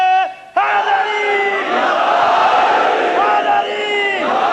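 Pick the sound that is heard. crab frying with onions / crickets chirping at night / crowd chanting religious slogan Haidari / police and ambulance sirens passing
crowd chanting religious slogan Haidari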